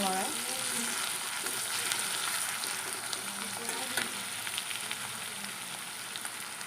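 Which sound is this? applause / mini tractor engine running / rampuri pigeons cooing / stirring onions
stirring onions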